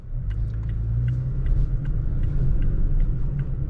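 A 2020 Toyota Tacoma pickup truck pulls away with a steady low rumble, accelerating smoothly up close, with no voices.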